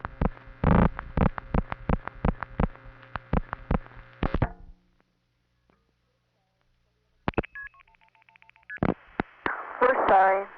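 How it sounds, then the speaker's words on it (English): Telephone dialing of a vacant code in the 216 area, a quick run of sharp tone pulses followed by silence, then switching tones and a clicking, burbling connection sound near the end. "there's a way to find out, and that is to dial a vacant code in the 216 area"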